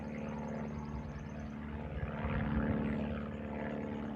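A DJI Mini 2 drone flies overhead, a steady high propeller whine and buzz at moderate distance that swells slightly midway, with no talking.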